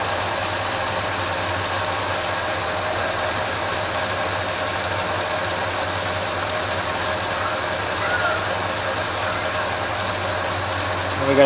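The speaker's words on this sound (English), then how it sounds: "we're going to turn these in just slightly until you hear the engine RPM starting to drop" Ford F350 carbureted engine idling steadily during idle mixture adjustment, a continuous rumbling drone with faint knocking texture and a slight rise near the end.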